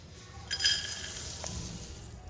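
Mixed seeds dry-roasting in a pan at home, a soft steady sizzle with light scraping as they are stirred, faint and continuous throughout.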